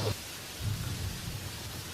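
Heavy rain hisses steadily in a cartoon storm while low thunder rumbles underneath, a dense, continuous wash of sound with no voices.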